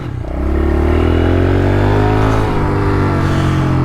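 Several pit bikes sit idling as they warm up before a street ride, one fitted with new suspension, making a steady, loud, close engine drone with a slight shift in pitch partway through and no talking.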